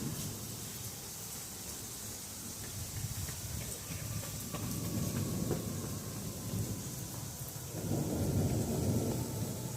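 Thunder during a thunderstorm in Colorado Springs rumbles low and distant over steady background rain noise, swelling louder near the end.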